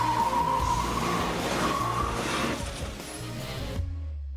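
Car towing a trailer accelerating from about 40 km/h and swerving in a stability test, with steady engine and tyre roar and some skidding, fading out at the end.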